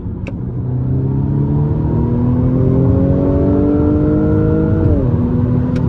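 A new BMW pulls away at full throttle, its engine note climbing steadily in a loud, close, sustained roar before easing off with a quick drop in pitch near the end, with no talking.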